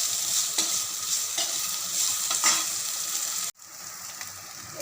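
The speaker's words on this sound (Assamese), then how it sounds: "এতিয়া এইখিনি অকণমান সময়ৰ কাৰণে আমি ভাজিম।" Ginger-garlic paste sizzles in hot oil with onion and bay leaves for an Assamese fish head curry, a steady close frying hiss with faint stirring scrapes, briefly interrupted near the end.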